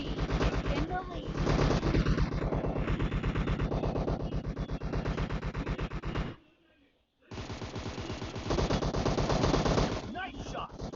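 Sustained automatic gunfire in the video game PUBG, a dense, rapid stream of shots that runs loud for several seconds, breaks off briefly, then resumes with another long burst.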